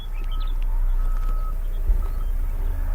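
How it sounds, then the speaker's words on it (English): Mining machines at a lithium mine in open sagebrush country sound rhythmic reversing beeps, faint and distant over a low rumbling drone, with a meadowlark singing in the background. "The western meadowlark sings a dissonant duet with the rhythmic beep of a half-dozen hungry machines"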